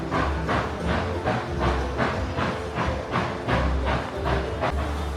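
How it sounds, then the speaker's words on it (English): A train rolling past with a steady, continuous rumble and repeating rhythmic clatter of wheels over rail joints, fairly loud and close throughout, with a hissing wash over it and no talking. "the train just went by"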